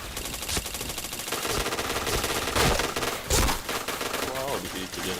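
Gunfire in the shooter game Point Blank, rapid automatic bursts and single shots crackling over a busy, dense game soundscape, loud and close, with a player's voice talking underneath.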